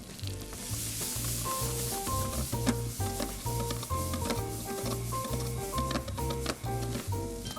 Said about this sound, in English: I'm gonna hit it with a little more olive oil. Let the olive oil heat up.